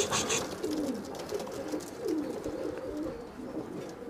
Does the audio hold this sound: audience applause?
no